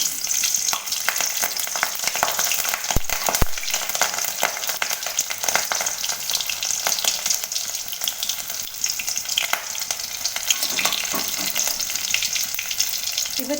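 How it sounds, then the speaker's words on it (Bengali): Nigella seeds and green chillies tempering in hot oil for a vegetarian papaya dish: a steady, loud, close sizzle and crackle with spitting pops throughout, no voices. "তেল গরম হয়ে গেছে, এবার আমি এর মধ্যে কালো জিরে ফোড়ন দিয়ে দেব।"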